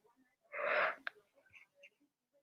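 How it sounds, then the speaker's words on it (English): A person lets out a breathy, drawn-out yawn close to the microphone, a short airy exhale ending in a small click, with quiet room sounds around it. "I'm so sorry for yawning."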